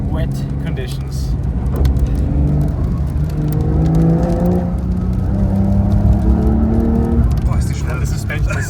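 A Porsche 992 Dakar driven fast in manual mode on a wet, bumpy road, with a loud, close engine drone whose pitch rises and falls as it accelerates and shifts, alongside tyre and road noise.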